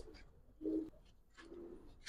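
A pair of soft, rolling coos from Giribaz pigeons, close and moderately loud, separated by a short pause.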